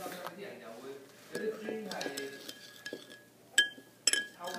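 A spoon stirs a sugar body scrub mixture in a bowl, making light clinks and scrapes against the sides with two sharper taps near the end, while someone talks throughout.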